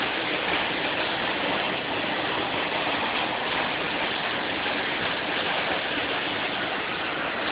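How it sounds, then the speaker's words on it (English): Hail pours down outside a window in a dense, even hiss of countless small impacts, steady and unbroken throughout with no voices. "Look at all of that hail."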